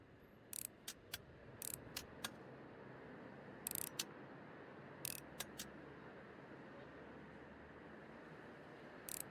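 In the video game ReStory: Chill Electronics Repairs, screws are taken out of a device, giving short, sharp clicking ticks in small irregular clusters over a faint, steady background hiss.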